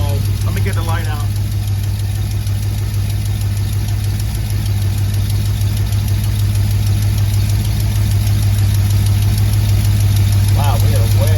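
A 1955 Ford 292 Y-block V8 with a Summit 500 cfm electric-choke carburetor idles steadily at around 600 RPM, a loud, even engine drone running throughout with a brief voice near the start and end.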